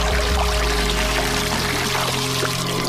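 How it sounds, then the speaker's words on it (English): Swamp water pouring through a cloth sack used as a filter, a loud, continuous splashing gush heard close up and holding steady for the whole moment, with no voices. "this water's now coming out all nice and clear"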